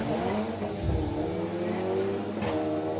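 The 1.8 litre turbo engine of a VW Caddy drag car revs at a drag race, a sustained, fairly loud droning roar with shifting pitch and a small surge near the end.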